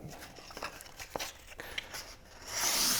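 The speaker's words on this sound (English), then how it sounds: "with this tacky glue, if you kind of rub the glue" Tacky glue is rubbed by hand onto a paper birthday cake box, making soft, quiet scratchy rubbing strokes at close range that swell slightly toward the end, with no voices.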